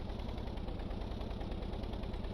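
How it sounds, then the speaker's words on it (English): A vehicle engine in the Stormworks game lugs in too high a gear, giving a low, faint, steady rumble with a dull rhythmic pulsing throughout and no talking. "So you can hear how the engine was lugging."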